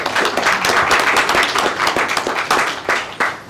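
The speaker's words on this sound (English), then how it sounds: "Can I get a round of applause for the panelists?" An audience at an intellectual property law conference in Dubai gives a dense, steady round of applause for the panelists. The clapping is close and loud throughout, with no talk over it.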